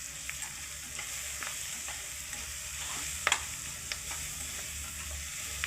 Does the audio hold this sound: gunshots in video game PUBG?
no